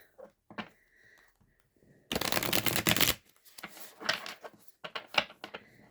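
Tarot cards being shuffled, a dense riffling burst of about a second followed by softer scattered card handling and taps, close and fairly quiet with no talking.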